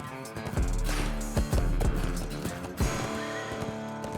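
Horses walk along on a ride in Canada with Compton's Urban Saddles riders, hooves clip-clopping in a loose uneven rhythm, close and clear, with a brief snort and some background music under the steps.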